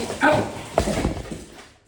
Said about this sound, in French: Ça c'est mon chien qui a attaqué mon chat.